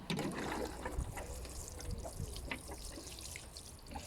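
Water poured onto the soil of a freshly sown carrot pot in a small home garden, a steady splashing trickle that runs on without a break across the whole moment, close by.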